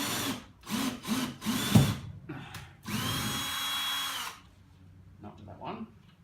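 Power drill driving a screw at an angle into garage timber while overhead shelves are installed, in several short whirring bursts and one longer steady run, close and loud, with some talk between the bursts.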